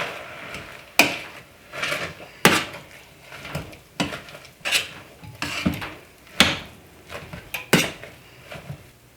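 Butter is cut on a board for gravy, giving a run of sharp knife taps and thuds with short scraping between them, close and fairly loud, with no talk.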